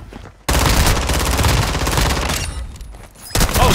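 Shotgun fire in a multiplayer shooter video game, loud and dense, with rapid overlapping gun blasts and booms roaring almost continuously before a brief dip and a renewed burst.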